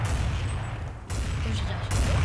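Gunfire in Counter-Strike, a loud sustained burst of rapid shots and explosions that cuts off briefly midway and resumes, with a voice underneath.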